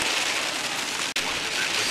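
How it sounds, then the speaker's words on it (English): Light rain falling outdoors, a steady soft patter and hiss that fills the whole short stretch with only a brief dropout, no voices. "Raining just a little bit."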